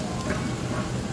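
Garlic being stir-fried in oil in a home kitchen, a short burst of close, steady sizzling with a faint scrape of stirring and a brief clack at the end.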